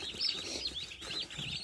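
Broad-breasted white turkey poults, about ten of them, peep in a busy stream of high chirps that overlap each other, heard at close range at a moderate level.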